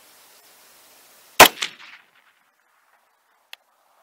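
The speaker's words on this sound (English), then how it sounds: "here we go with the first shot. Will be the 105 grain Hornady Black factory load" A single sharp rifle shot from a 6mm ARC firing a Hornady Black 105 grain factory load, loud and close, with a brief echo rolling off afterward and a faint distant crack a couple of seconds later.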